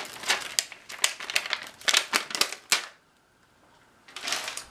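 Velcro dots being peeled from their backing sheet, a run of sharp crackling rips in quick bursts, close and fairly loud, then a short pause and another tearing burst.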